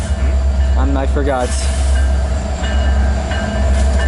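Train number 7042 rumbles past at close range, a loud, steady roar of rolling cars with faint squeals, while someone speaks briefly over it.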